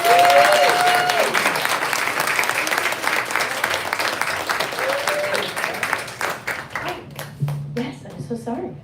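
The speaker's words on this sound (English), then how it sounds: "let's give them one more round of applause." An audience at a live poetry reading applauds, loud and dense at first, then thins into scattered claps. A few voices call out over the clapping.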